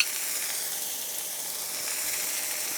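Butter sizzles in a hot pan with a steak, a continuous bright frying hiss that stays steady and fairly close, with no talking over it.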